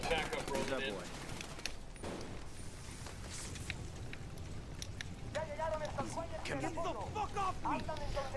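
Gunfire in Ghost Recon Wildlands, with bursts of automatic weapon fire crackling amid game action, while voices talk throughout.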